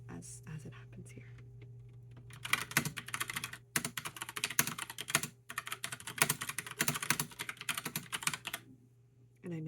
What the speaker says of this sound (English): I'm out of practice with a mechanical keyboard.